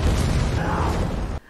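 A flare gun shot sets off a film explosion, a loud, dense roaring blast that holds for over a second and then cuts off sharply into near silence.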